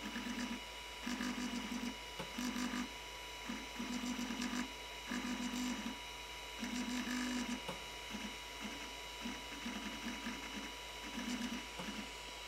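A 3D printer's stepper motor drives the X axis in repeated buzzing, whirring bursts, each lasting a fraction of a second to about a second, with brief pauses between them over a steady mechanical hum.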